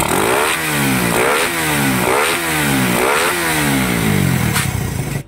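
A motorcycle engine runs close by, revving up and down in repeated cycles with a rough, clattering mechanical tone.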